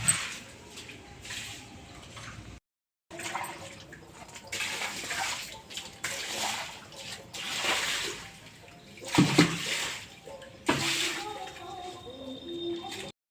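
Water splashes and pours as a floor downstairs is washed, intermittent sloshing and running-water bursts with brief gaps and a short pause, while someone talks over parts of it.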